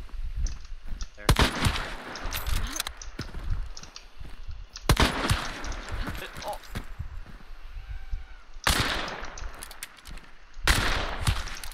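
Loud, booming gunshots in the Hunt: Showdown video game come in a few separate heavy blasts spaced seconds apart, with people talking throughout.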